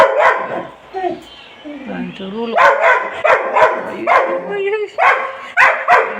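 A dog barks repeatedly in a street where many dogs roam, sharp close barks arriving in an irregular series with voices talking around them.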